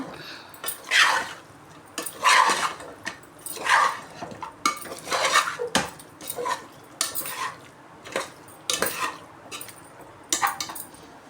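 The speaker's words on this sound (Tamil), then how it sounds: "உப்பு கொஞ்சம் சேர்த்துக்கிட்டு நல்லா மிக்ஸ் பண்ணி விட்டுடுங்க." A spoon scrapes and clatters against a metal pot as mutton biryani mixture is stirred with salt, repeated scraping strokes in an irregular rhythm, close and fairly loud with no talk.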